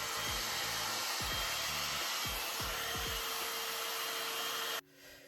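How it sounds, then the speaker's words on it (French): A hair dryer runs continuously with a loud, steady whoosh and high whine, shifting briefly near the end as it is switched down. "je vais vous montrer donc l'utilisation du sèche-cheveux"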